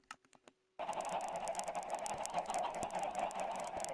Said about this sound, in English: There's like tornadoes of chickens running on me.